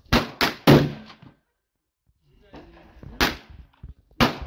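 .300 Weatherby rifle shots at a range, three sharp loud cracks in quick succession, then a quiet stretch with faint handling noise, followed by two more close, loud reports.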